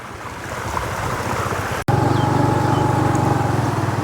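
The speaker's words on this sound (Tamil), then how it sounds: "இந்த சர்ச் அடியால் போகிற வெள்ளத்தின் அளவை பாருங்க" Floodwater rushes steadily through a drainage channel during flooding in Jaffna, a loud, continuous roar that cuts out for a split second before surging back.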